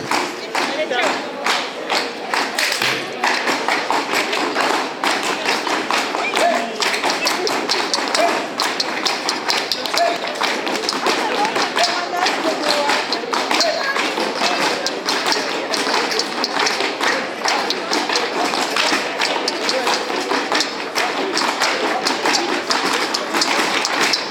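Continuous rapid tap-dance steps from a claquettes show at a forum in Aulnay-sous-Bois, loud crisp taps in steady rhythm for the whole stretch with crowd sounds beneath.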